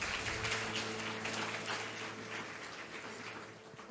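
A church congregation at a worship service claps for the Lord, a dense wash of many hands that holds steady and then slowly eases off, with a low hum underneath and no speech.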